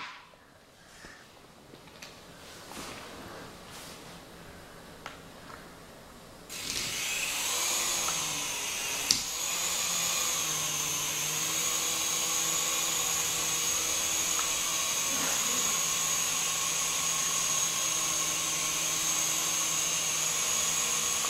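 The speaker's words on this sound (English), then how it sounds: "I'm going to be flying a helicopter" A small remote-controlled mini helicopter spins up after a few seconds of quiet with faint knocks, then holds a loud, steady high-pitched rotor whine, close by and unbroken, with a sharp click partway through.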